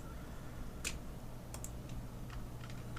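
Computer keyboard and mouse clicks while editing in Premiere Pro, a few faint sharp clicks and taps spread unevenly over a low steady hum, with no talk.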